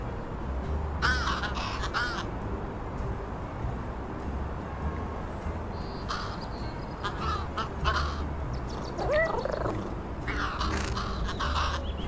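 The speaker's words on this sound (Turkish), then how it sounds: "karga bizi tebrik falan ediyor" Crow caws from the Little Kitty, Big City video game, repeated harsh calls spread through the clip over a steady background ambience, with no talking.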